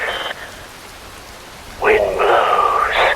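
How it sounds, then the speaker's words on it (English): Steady rain falls in the video game Metal Gear Rising: Revengeance as a fairly loud, even hiss, broken by two bright synthetic tonal bursts, one at the start and a longer one later. "Wind blows, rain falls."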